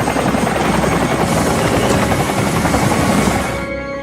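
A helicopter flies loud and close in a steady thick rotor roar with a whining hum, carrying 40 paramilitary commandos onto the Jaffna University football ground, fading slightly at the end.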